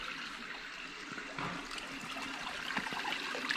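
Water running from a tap whose flow is turned down and back up, a steady outdoor trickle and splash that swells slightly toward the end, with no voices.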